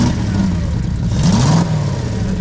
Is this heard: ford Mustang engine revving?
yes